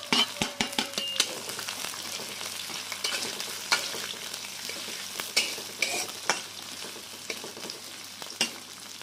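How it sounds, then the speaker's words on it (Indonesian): Chopped chili and shallot paste sizzles in hot oil while a spatula scrapes and stirs it, a steady frying hiss broken by irregular close metallic clicks and taps. "setelah minyaknya panas, kita masukkan semua bumbu yang sudah kita cincang"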